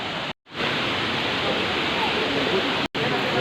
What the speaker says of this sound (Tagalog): Nandito na kami sa falls.